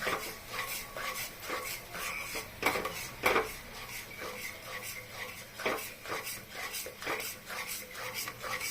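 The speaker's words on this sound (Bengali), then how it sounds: "এখন খুব নাড়ব। নাহলে দইটা ফেটে যাওয়ার চান্স আছে।" Curd is stirred steadily into spices in a pot with a spoon for paneer biryani, a quiet close run of rhythmic metal scrapes and clinks against the pot, with a couple of louder knocks and no talk.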